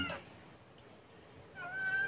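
A cat in a pet shop gives a faint short meow, then a longer, clearer rising meow after a quiet pause.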